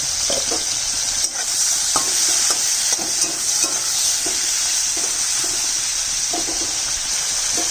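Shrimp fry in hot oil seasoned with salt and a little turmeric, giving a steady loud sizzle with scattered scraping stirs and clinks of a utensil, and no talking.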